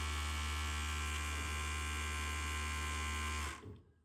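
A used sewing machine runs with a steady, loud electric motor hum and a high whine that holds level for several seconds, then stops abruptly and leaves a brief fading rattle.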